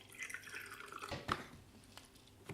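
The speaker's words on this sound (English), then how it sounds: "So let's pour the fixer in now." Film fixer trickles and drips into a development tank with a faint, uneven splashing of liquid and a few brief clinks, quiet and close.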